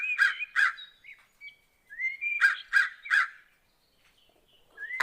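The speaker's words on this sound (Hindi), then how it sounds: "तभी कालू कौवा जोर जोर से चिल्लाते हुए लाडो के घोंसले के बाहर आ जाता है।" A cartoon crow caws loudly in sharp repeated pairs and triplets, with a brief gap between groups and a rising squawk at the end, alone and close.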